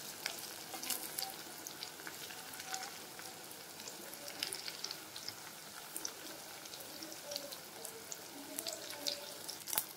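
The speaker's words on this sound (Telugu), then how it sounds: "ఇలా చాలా స్లోగా ఫ్రై చేసుకోవాలి. అప్పుడు వంకాయ బాగా మగ్గుతుంది లోపలంతా." Eggplant (vankaya) frying slowly in a pan, giving a faint, steady crackling sizzle with scattered tiny pops throughout, soft and continuous.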